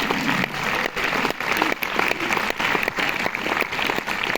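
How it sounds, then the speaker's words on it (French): Loud applause fills a cinema auditorium at a film premiere in Paris, an audience clapping in a dense, steady patter with some rhythmic pulsing, close and sustained from start to finish. "Ça mérite beaucoup d'applaudissements."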